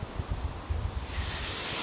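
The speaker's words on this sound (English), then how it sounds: "It's super windy today." Strong wind gusts on a cold day in Turku, Finland, rumbling and buffeting against the microphone in a continuous low roar, with no talking.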